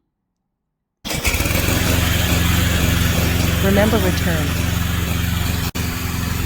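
A remote control lawn mower, model VTC550-90, starts after a second of silence and then runs with a loud, steady engine drone, briefly dipping near the end while a person speaks over it.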